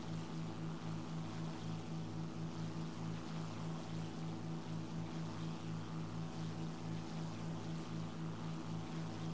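A Tempest Mk V piston fighter flies in the War Thunder video game, its propeller engine giving a steady, throbbing low drone with a regular pulsing beat, constant and uninterrupted throughout.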